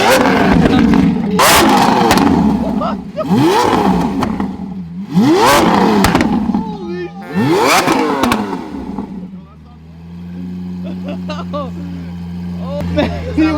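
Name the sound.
V12 car engine revving with fire-breathing exhaust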